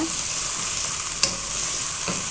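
Turmeric and salt frying in hot oil with a steady close sizzle, a single sharp utensil clink near the middle and light stirring, no voices.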